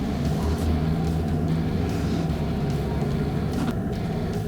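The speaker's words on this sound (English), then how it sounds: "You can come down to almost a stop, put your foot down, thing just explodes into gear." A Toyota Hilux automatic accelerating hard through soft, deeply rutted sand, its engine giving a loud, steady, close-up roar that holds throughout with no speech.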